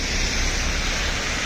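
Water rushing across a road after landslides, a dense steady roar of flowing water, loud and unbroken throughout.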